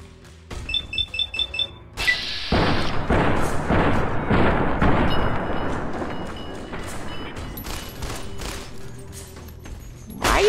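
Gunfire in Fallout New Vegas: a burst of rapid shots begins abruptly, then dense, loud firing keeps going for several seconds with booming impacts, fading a little near the end.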